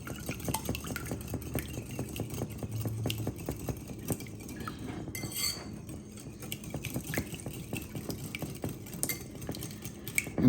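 Whole eggs being stirred together with vegetable oil in a bowl, a steady run of close utensil clinks and scraping taps against the side with no talking.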